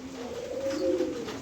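A female pigeon coos, one soft drawn-out call rising and falling against quiet background, faint and close, with no speech.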